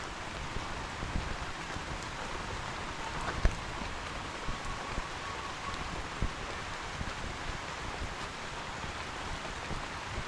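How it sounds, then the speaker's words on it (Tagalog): Rain falls outside over a small backyard farm, a steady broadband wash of moderate loudness with occasional faint drips and taps, no voices. "it's raining guys."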